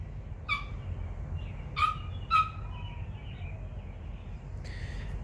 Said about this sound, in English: Is that dog driving you nuts?